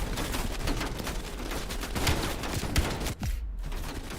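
Call of Duty gameplay with shotgun fire, a loud, continuous barrage of shots and impacts that breaks off sharply for a moment near the end.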